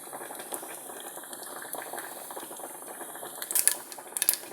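Mustard and cumin seeds crackle and sizzle in hot tempering oil for a bottle gourd curry, a steady close frying hiss with sharper pops and spits bursting louder toward the end.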